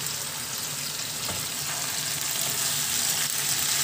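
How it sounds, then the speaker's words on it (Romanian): Potatoes with sausages fry in a pan, giving a steady, close, broadband sizzle that stays even throughout with faint stirring scrapes. "Uitați ce fain și s-o prăjit."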